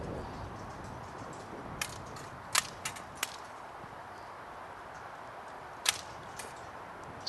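Rifle shots ring out in single sharp cracks, some close together, at a biathlon range during the 2013 IPC Nordic Skiing World Championships in Sollefteå. They sound fairly distant over a steady outdoor hush.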